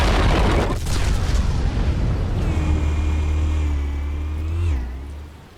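In the Batman Telltale game, a loud, heavy detonation booms up front, then rumbles and roars on for several seconds while a whining, falling tone rises over the rumble before everything fades.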